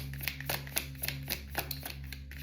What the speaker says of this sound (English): So I'm sitting here and I keep shuffling these cards